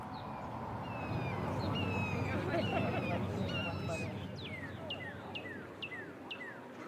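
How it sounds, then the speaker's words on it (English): Birds chirp outdoors with repeated short, bright calls, fairly faint above a low steady rumble and a soft murmur of background voices. "Like, for example, birds chirping."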